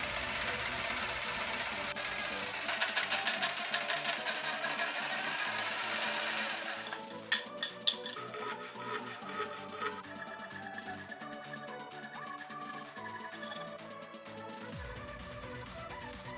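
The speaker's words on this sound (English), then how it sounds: "Now I'll be using a jigsaw equipped with this very fine blade." A jigsaw fitted with a very fine blade cuts through acrylic sheet, giving a rapid buzzing, chattering mechanical whine that runs steadily, then breaks into uneven bursts as the cut goes on, with no talk.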